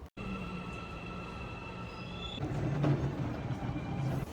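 A Seoul subway metro train running steadily with a continuous rumble and a high steady whine, growing louder and rougher midway as the car moves, with no voices.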